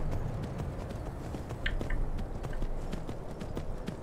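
Horse hooves clip-clopping at a steady riding pace in the video game Skyrim, a regular rhythmic beat of hoofsteps over a low ambient game backdrop, moderately loud and unbroken.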